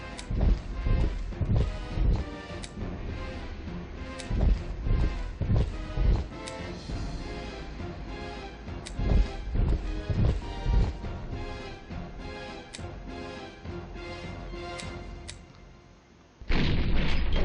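Artillery fire in the Panzer General 2 wargame: a steady series of heavy booms and blasts, about a dozen over the stretch, loud and close with sharp attacks and rumbling tails, without any talk.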